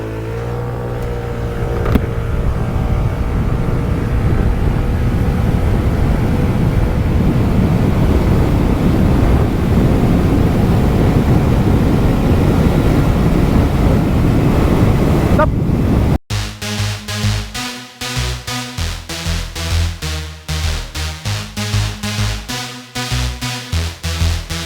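Kymco People S 125 scooter (2023) accelerating hard from a standstill toward 100 km/h, engine note loud and rising under heavy wind buffeting on the microphone, with the character changing sharply partway through.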